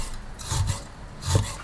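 Knife slicing a piece of pork foreleg meat, fat and lean separated, into thin pieces on a cutting board, making two rasping cuts close by with no talk.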